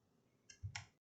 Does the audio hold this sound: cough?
no